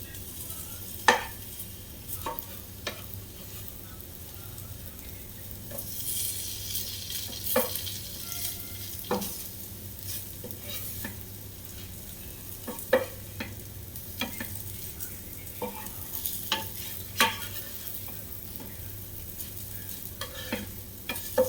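Cucumber batter cooking on a tava griddle gives a soft, steady sizzle beneath scattered clinks and scrapes of a ladle, fairly quiet and close throughout.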